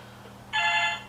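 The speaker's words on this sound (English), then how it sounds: "And excuse the phone" A landline telephone starts ringing midway, a bright trilling ring heard moderately loud over quiet room tone.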